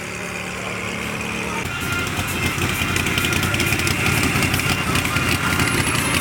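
Hot rod car engine idling loud and low at an outdoor car show, a steady rumbling burble close by that grows slightly louder partway through, with crowd noise around it.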